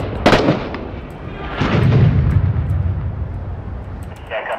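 A mortar explosion in the war video game Six Days in Fallujah, with a sharp nearby crack followed by a second deeper blast that rumbles and fades, plus scattered distant pops.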